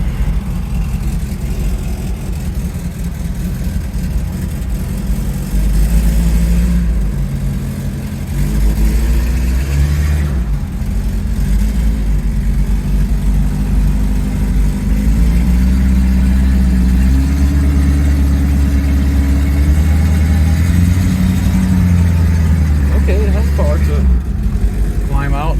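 A Rolls-Royce Silver Shadow car engine rumbles low and steady while driving, its drone shifting in pitch as it moves off, with someone talking over it at times.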